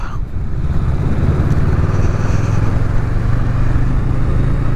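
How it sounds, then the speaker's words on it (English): A Honda Rebel 500 motorcycle cruises along a mountain road, its engine a continuous close, loud rumble mixed with steady wind noise throughout. "At the minute I'm riding through these lovely mountains on my Honda Rebel 500."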